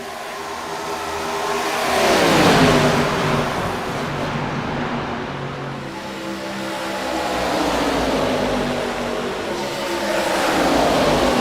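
ARCA race cars roar down the straightaway at EchoPark Speedway in Atlanta, their engines swelling loud as they pass close, fading, then rising again with another pass.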